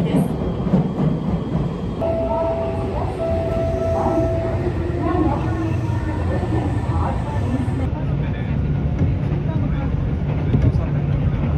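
The Hankai Tramway Mo 161 tram pulls into a stop in Osaka with a low, steady rumble, thin squealing tones from wheels or brakes, and brief sounds resembling voices in the background.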